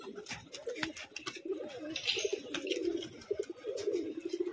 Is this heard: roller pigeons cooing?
yes